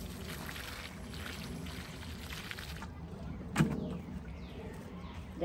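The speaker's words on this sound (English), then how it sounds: "I'm going to put some water underneath." Water pours steadily into a planting hole dug for a Dioca 'Clifford Moor' or Pugster Pink butterfly bush, a continuous splashing gush outdoors, close by, with a brief sharp knock partway through.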